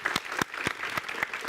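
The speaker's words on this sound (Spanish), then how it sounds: "Un aplauso para él, por favor." A studio audience at a talk show claps for an arriving guest, several loud, distinct claps close by over softer crowd clapping.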